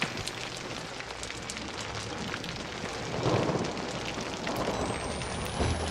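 Steady heavy rain pours in the horror video game Outlast, a dense continuous hiss with a low thunder rumble swelling midway and lingering, no speech over it.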